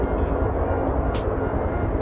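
Helicopter flying overhead above a backyard, a continuous low, even engine rumble holding steady throughout without any talk.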